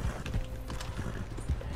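Horse hooves clip-clop in a steady trotting rhythm in Red Dead Redemption 2, close and moderately loud, with faint game ambience underneath.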